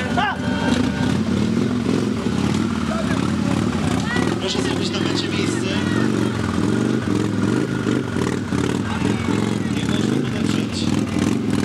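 A Harley-Davidson motorcycle starts up and revs at a rally in Wałbrzych, its steady rumbling engine running loud and close throughout, with crowd chatter and an announcer's voice over the top.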